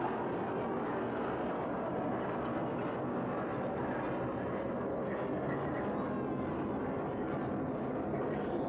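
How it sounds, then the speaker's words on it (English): A jet airplane passes overhead above a middle school soccer field, a loud, steady broadband roar that fills the whole stretch without letup, drowning out the surroundings. "as the jet flies over top of us at the Plex"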